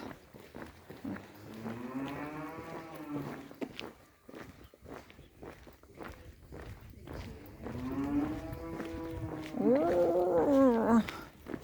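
Cows moo at morning feeding time along the Camino de Santiago in Spain, two long, drawn-out calls with a pause between, over shuffling steps and scattered knocks close by.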